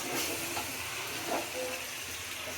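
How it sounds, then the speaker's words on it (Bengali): Chicken pieces sizzle in a curry pan while being stirred, a steady close hiss and crackle with soft scraping movements and no talking. "চিকেনটা এখন নেড়ে চেড়ে দিচ্ছি।"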